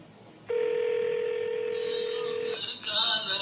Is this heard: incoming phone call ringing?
yes